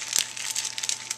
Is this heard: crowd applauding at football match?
no